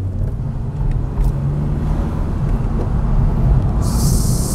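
A Honda Civic FK7 with a custom air intake and stock muffler accelerates on a road, heard from inside as a steady low engine drone with road rumble that builds gradually.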